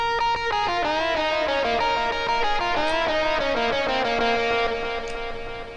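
A synthesized melody played in OpenMPT tracker software through a classic delay plugin, distorted sustained tones stepping through a tune with repeating echoes trailing each note, loud and without any talking.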